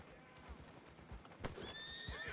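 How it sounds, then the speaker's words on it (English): In a video game roleplay server, a horse's hooves clop unevenly, then a whinny rises toward the end, all fairly quiet over a low background. "don't know what my horse is doing"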